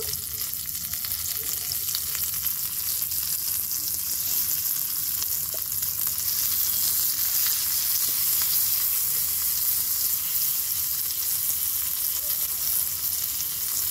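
Katla fish paturi wrapped in gourd leaves fries in a pan, a steady, even sizzle that continues without a break for the whole stretch.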